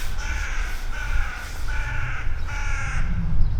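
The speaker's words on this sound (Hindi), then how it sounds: "सुन रहे हैं कौवे की आवाज़?" Several crows caw in a loud, repeated series of harsh calls on an old city street in Baku, Azerbaijan, with a low rumble of street noise underneath.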